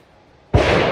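A single sharp crack from a Tikka .22 LR rifle fitted with a 24-inch IBI barrel, shot outdoors at a 50-yard target, bursting abruptly out of near silence and trailing off with a brief decaying tail.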